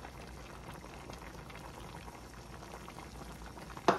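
Steady bubbling and rolling of water boiling in a pot of baby lima beans and smoked turkey, continuous and close, with a brief louder splash near the end.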